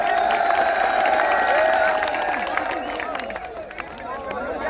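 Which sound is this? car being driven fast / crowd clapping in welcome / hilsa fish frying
crowd clapping in welcome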